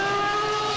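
A Yamaha heavy bike ridden fast on a Karachi road at around 150 speed, its engine giving a loud, steady high-pitched whine with clear harmonic tones, heard close for a brief moment.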